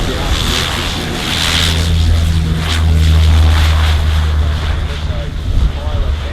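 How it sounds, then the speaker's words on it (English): Water-bombing aircraft, an RJ85 or EC-130Q, taking off at Avalon Airshow 2017, a steady loud low propeller drone that swells in the middle and holds, with wind noise and an announcer speaking over it. "the aircraft that are taking off"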